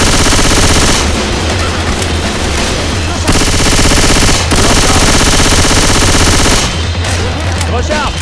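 Rapid automatic gunfire from several weapons in the Left 4 Dead 2 survival map The Parish bridge, loud and sustained in long bursts with brief gaps, with a player's voice briefly heard among the shots.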